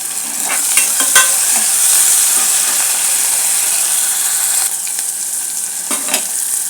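Onions with a spoonful of ginger-garlic paste fry in a pan for a chana chicken dish, a loud, close, continuous sizzle broken by scraping stirs and brief clinks of the spoon.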